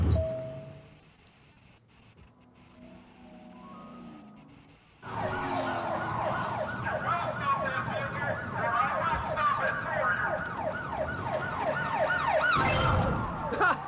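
Police car sirens wail in a driving video game, a loud, continuous rising-and-falling electronic siren that bursts in suddenly after a few seconds of quieter game sound and holds steady to the end.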